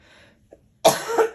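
A woman gives a single sharp, close cough that trails off into a rough throaty rasp after a moment of quiet.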